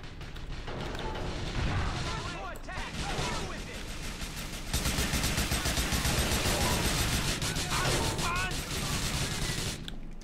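Heavy gunfire from a GTA IV shootout during a bank robbery, dense and continuous bursts with booms and crashes throughout, loud and close, with voices talking over parts of it.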